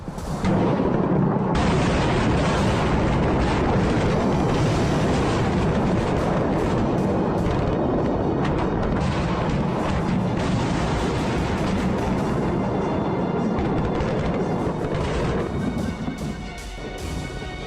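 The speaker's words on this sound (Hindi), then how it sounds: "देखिए, धमाकों पर धमाके हो रहे हैं।" Continuous roar of heavy bomb blasts over Beirut rumbling one after another, loud and dense, with sharp cracks rising out of a sustained deep boom.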